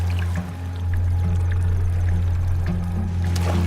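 A motorboat motors out across Lake Garda, its engine a steady, loud low drone with water washing against the hull throughout, no voices heard.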